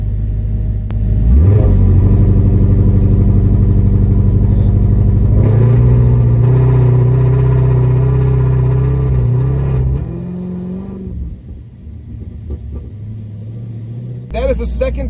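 A Dodge Demon 170 roars off the line with a loud, low engine rumble that climbs steadily in pitch through the gears for about ten seconds, then drops back to a softer idle burble.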